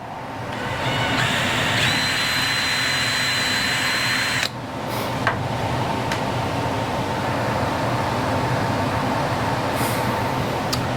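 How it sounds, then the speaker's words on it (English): A power drill whines steadily, then cuts off abruptly; a few sharp clicks follow over a constant mechanical hum in the background. "We'll drill in a hole."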